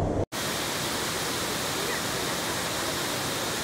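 A waterfall roaring steadily as a dense, broadband rush, loud and unbroken after a brief dropout at the start.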